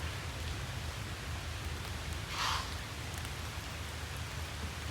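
Steady rain falls outdoors near a field, forming a constant broadband hiss with a low rumble beneath and a brief brighter patter partway through.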